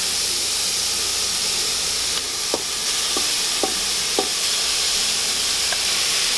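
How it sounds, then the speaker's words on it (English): Venison pieces added to a hot pan with fresh garlic give a loud, steady, hissing sizzle throughout, with a few faint ticks and pops standing out against it. "Now we're going to go ahead and add our venison."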